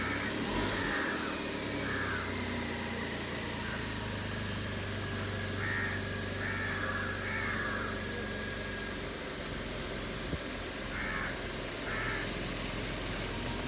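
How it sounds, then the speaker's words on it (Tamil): A car moves slowly while being maneuvered into a parking spot at an apartment building, its engine a steady low hum at low revs, with faint intermittent higher tones over a constant rumble and no talking. "ஸ்லோவாக வண்டியை கண்ட்ரோல் பண்ணி போயிட்டு இருக்காங்க."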